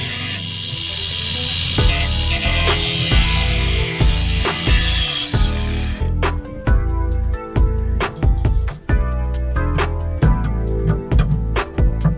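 A slot being cut into a BMW gearbox shifter part on a drift car build, rendered as steady rasping, scraping strokes close by, settling after a few seconds into a run of sharp, irregular clicks and knocks.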